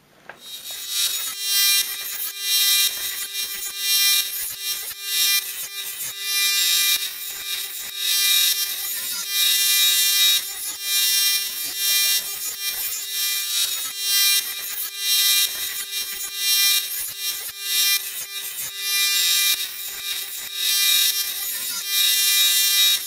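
A file or sharpener rasps back and forth steadily along a Hayter 41 lawnmower blade, loud and close, in long continuous strokes with no talk.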